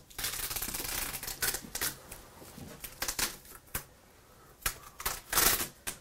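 Soaked paper is peeled and rubbed off a printing plate, making close, irregular crackling and scraping bursts with short quiet gaps between them.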